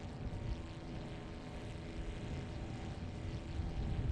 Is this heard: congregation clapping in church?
no